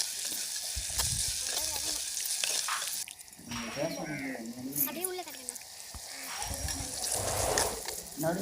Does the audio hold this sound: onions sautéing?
yes